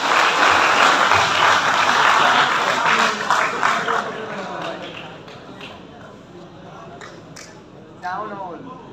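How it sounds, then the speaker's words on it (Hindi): A seminar audience gives loud, dense applause welcoming a spoken-English teacher onto the stage at a motivational event; the clapping fills the first few seconds, then thins as a voice begins talking over its tail. "जोरदार तालियों से सर का स्वागत करें मंच पर।"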